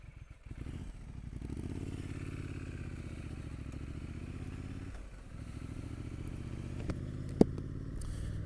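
2022 Triumph Street Scrambler Gold Line Edition motorcycle on the road, its engine thrumming steadily with slight rises and falls under wind rush, a brief lull around a gear change, ridden without talk.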